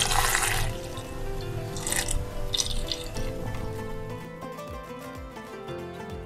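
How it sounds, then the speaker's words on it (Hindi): About half a cup of water is poured into raw mango chutney ingredients of mint, coriander, green chili, cumin, garlic and salt, a close splashing pour at first that settles into a softer trickle. "थोड़ा सा पानी चला जाएगा तकरीबन 1/2 कप के करीब।"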